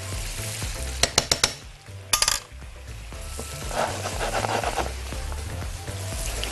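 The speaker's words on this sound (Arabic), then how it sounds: "طشة عادية طبيعية، توم، كزبرة، فلفل حامي" Garlic, coriander and hot pepper sizzle loudly in hot ghee as a topping for Lebanese-style molokhia, a steady crackling fry broken by a few sharp clinks of utensils against the pan near the start.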